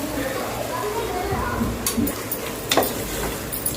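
Tomatoes sautéing with rock salt and pepper in a pan for chicken biryani give a steady, soft sizzle, with light stirring clinks and faint voices in the background.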